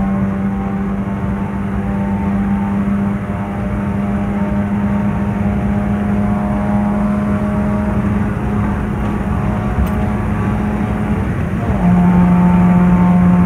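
A remapped Honda Brio 1.2 with its speed limiter removed accelerates hard, its engine drone loud and steady throughout, climbing in pitch toward the end with no talk over it.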